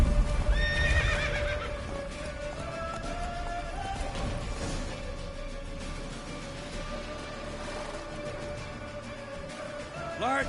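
Roach, a horse in the video game The Witcher 3, gallops with steady hoof beats and lets out a loud neigh near the start, while battle noise and faint voices stay in the background.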